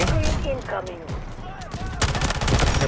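Rapid gunfire bursts from the mobile shooter Delta Force Mobile, dense automatic fire with a sharp, loud burst of shots near the end, heard under excited talk.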